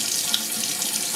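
Tap water runs steadily as a calcified coffee maker part is rinsed clean, a continuous close splashing hiss with no voices.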